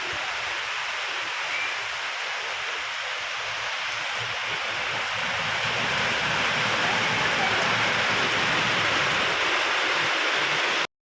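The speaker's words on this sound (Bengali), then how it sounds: "বৃষ্টি।" Steady rain pours down, a dense even hiss that swells slightly louder toward the end, with no voices.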